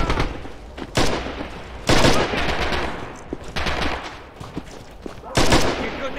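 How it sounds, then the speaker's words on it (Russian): Gunfire in the WWII shooter Red Orchestra 2: Heroes of Stalingrad, with loud bursts of machine-gun and rifle shots crackling across the whole stretch and heavier blasts punching in near the start, middle and end, over battlefield din. "Стреляю!"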